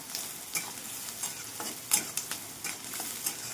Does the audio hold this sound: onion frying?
yes